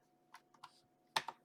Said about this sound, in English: Press C on your keyboard.